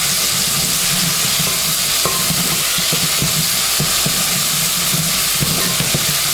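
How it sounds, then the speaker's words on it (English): Tomato paste being stirred into a frying dried beef and peanut butter stew, with a loud, continuous close sizzle and irregular spoon scrapes and knocks against the pot. "Now add your tomato paste. And stir it up."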